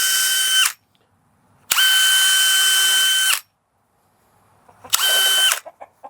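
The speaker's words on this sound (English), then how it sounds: "So I'm going to pre-drill these holes because I have to put this together myself in there." A power drill pre-drills screw holes in 2x4 wood for chicken nesting boxes in three loud whining bursts, the middle one longest, separated by silence, with light knocks after the last.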